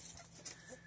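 A big white hen kept among bantams after being badly beaten by other chickens clucks in short, soft bursts close by, with faint background farmyard noise.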